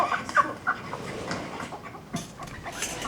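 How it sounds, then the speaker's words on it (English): A chicken clucks in a series of short, uneven bursts over a noisy, murky background, fairly close and moderately loud, with no voices. "What did you guys pay that chicken to do that?"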